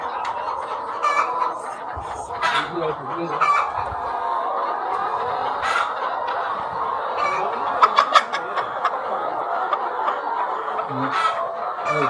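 Several laying hens cluck steadily at close range in a henhouse in Yaoundé, with occasional louder squawks and a distant rooster crow, all under a constant barnyard murmur.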